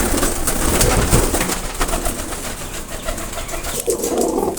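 Teddy pigeons, a high-flying pure blood line of pet pigeons, coo steadily and close by in an enclosure, with soft rustling and no one talking.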